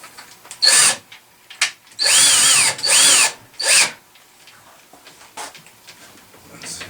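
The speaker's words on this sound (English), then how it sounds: "what I'm going to do is hook my hand drill up to this." A hand-held power drill turning a threaded rod whirs in several short bursts, revving up and stopping, with brief pauses and faint handling noises between.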